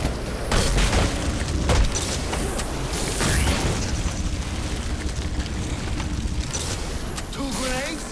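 Grenade blasts and heavy rumbling combat noise from the video game Batman Arkham Origins roll on loudly and continuously throughout, with dense booms layered over a busy action soundtrack.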